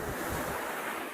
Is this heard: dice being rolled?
no